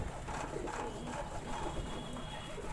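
Pigeons coo softly amid steady background noise at a pigeon loft, their low murmuring calls blending into a continuous, fairly dense texture.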